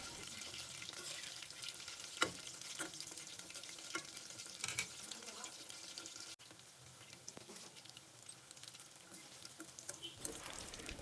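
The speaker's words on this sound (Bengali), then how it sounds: "আবারও ভেজে নেব।" Chicken pakoda pieces fry in oil, a soft continuous sizzle and crackle with occasional sharper clicks of a turning spatula, fairly quiet and with no voices.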